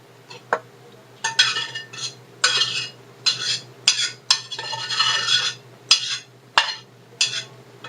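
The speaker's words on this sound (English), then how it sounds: "Let's get the noodles in there." Noodles going into a pan and being tossed and mixed, with repeated scraping and clinking of a utensil against the pan in irregular bursts, close and moderately loud, with no talking.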